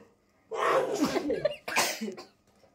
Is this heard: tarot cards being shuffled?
no